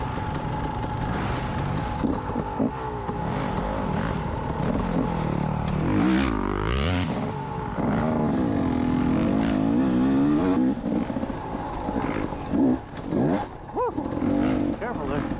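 An off-road motorbike engine revs and surges while a beginner rider works along a narrow single track trail, the pitch rising and falling close by, with a rider talking over it at times.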